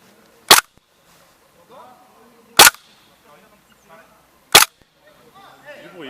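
A Tokyo Marui Desert Eagle airsoft pistol fires three sharp, loud cracking shots a couple of seconds apart outdoors, with people talking quietly in between.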